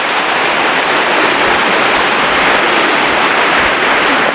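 The Kościeliski mountain stream in a Tatra valley rushes continuously, a loud, close, broadband wash of flowing water with no voices.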